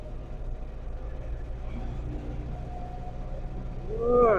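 A Force Traveller AC T1 nine-seat van pulling in fourth gear, its engine drone steady and close, swelling slightly louder near the end.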